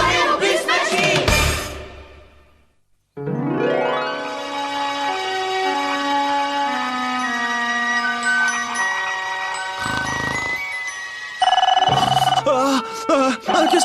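A telephone rings in a French-dubbed cartoon episode, its repeating tone sounding over a music-like bed with a short silent gap, followed by overlapping animated voices.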